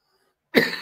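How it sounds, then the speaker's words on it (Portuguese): A single harsh cough bursts out abruptly after silence, close and loud, marking the start of a coughing fit. "deu uma crise de tosse"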